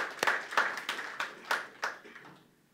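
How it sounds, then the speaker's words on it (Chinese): A church congregation claps together to welcome a visitor to a Chinese-language service: several quick bursts of clapping from a small group indoors, close and fairly loud, fading out toward the end. "我们欢迎他，我们鼓掌好不好？"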